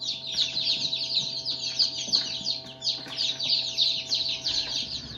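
A crowd of meat bird chicks chirps nonstop, dense overlapping high peeps heard close and loud from a loaded transport box.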